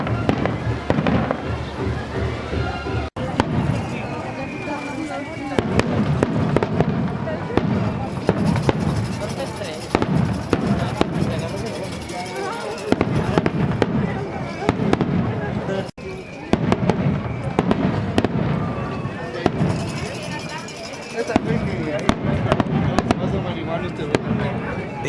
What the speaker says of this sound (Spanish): desde que salió la imagen no ha parado de seguirse los cohetes